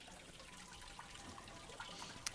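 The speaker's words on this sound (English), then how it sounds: "I'm just going to run the noodles under some hot water." Noodles rinsed under hot tap water, a soft steady hiss of running water with a few faint drips and splashes, quiet and continuous.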